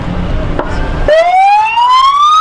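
Police siren fitted to a show car with Lambo doors at a car show: after a second of crowd and engine noise, a loud, clean electronic wail starts abruptly and rises steadily in pitch.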